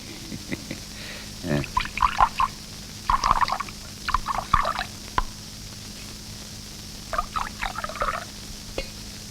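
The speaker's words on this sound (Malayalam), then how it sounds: "ഒരു പെഗ് ഒഴിക്കും." A peg of Scotch whisky poured into a glass: soft, intermittent liquid glugs and trickles in several short bursts over a quiet background, fairly close and gentle.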